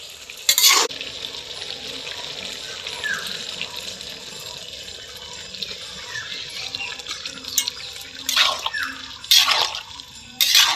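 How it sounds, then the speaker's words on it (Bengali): Water goes into a simmering pot of bottle gourd korma, hissing and bubbling against the hot pan, with a few sharp scraping bursts of stirring near the start and end. "এই দেখো, এখন আর একটু জল দেবো।"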